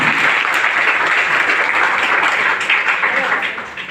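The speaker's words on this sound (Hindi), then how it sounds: "ताली अपने लिए सर बजा दीजिए।" Audience at a network marketing business seminar bursts into loud, dense applause, a steady wash of clapping that holds throughout and tapers slightly at the end.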